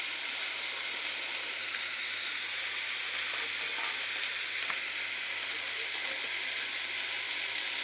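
Garam masala and other spices sizzle and fry in a pan of chicken curry, a steady close hiss with small crackles running throughout.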